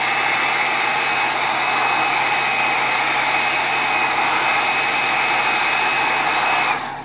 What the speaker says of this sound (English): Then using a heat gun,